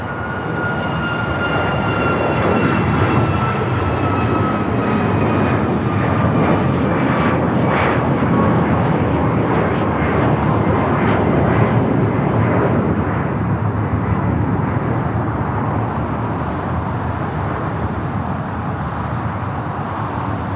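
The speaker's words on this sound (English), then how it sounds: "Next one to take off, Alaska Airlines Flight 1315 heading to Portland, a 737" Alaska Airlines Boeing 737 MAX 9 taking off at LAX, a loud continuous jet engine roar with a high descending whine, sustained and close for the full twenty seconds with no one speaking.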